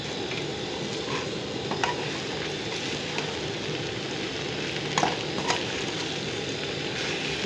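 Okra and potatoes fry with crushed red chilli in a pan, a steady close sizzle under occasional scraping stirs and light clinks from the spoon, with no talk.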